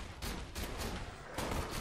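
Rapid gunfire from a weapon in the video game Borderlands 2, a string of quick shots in bursts, fairly quiet and somewhat distant in the mix, with no talking over it.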